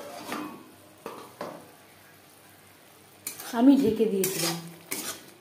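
Ground spice paste stirred in a pan on low to medium flame for a vegetarian pointed gourd dish, with metal utensil scrapes and clatters in bursts around a brief spoken remark.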